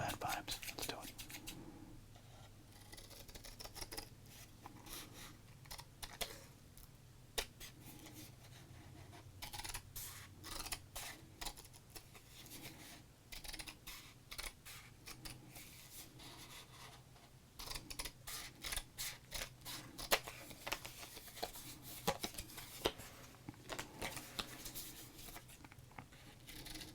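Scissors cutting through a baseball card at close range: repeated crisp snips and scraping strokes spread over the span, alongside soft whispering.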